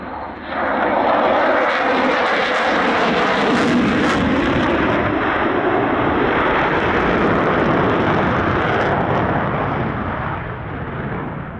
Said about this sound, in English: The F-22 is a true stealth fighter